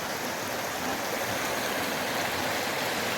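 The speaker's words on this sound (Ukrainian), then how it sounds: "невеликі каскадні водопади" Rushing water pours continuously over rocks in small cascading waterfalls in the Carpathians at Rakhiv, Ukraine, a steady close hiss of small cascades with no voices.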